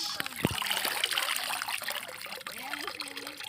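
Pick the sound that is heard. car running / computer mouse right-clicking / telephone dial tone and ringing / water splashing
water splashing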